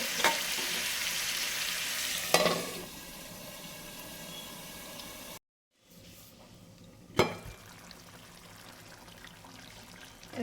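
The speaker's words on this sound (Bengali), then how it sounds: "এইভাবে না ঢেকে ঢেকে আমি পুরো মেটেগুলোকে কষিয়ে নেব" Goat liver sautés in a pan with a loud, hissing sizzle and a couple of sharp stirring scrapes, dropping out briefly as the lid goes on, then resuming quieter with another scrape.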